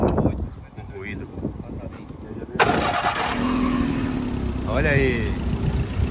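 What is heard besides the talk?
car engine starting and idling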